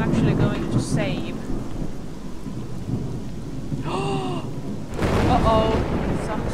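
Steady rain hisses over low rolling thunder in the S.T.A.L.K.E.R. mod Lost Alpha at Cordon bridge, a continuous storm bed with faint voice-like tones rising briefly above it.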